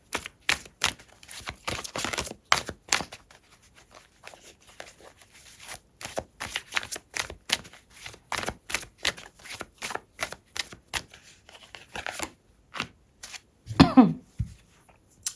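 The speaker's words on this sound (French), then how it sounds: "J'essaie toujours de battre les cartes hors caméra, comme ça vous n'avez pas à attendre ou entendre le bruit" Oracle cards being shuffled by hand, close up: a long run of quick crisp riffling and flicking bursts in uneven clusters, ending in a louder rustle and soft thump.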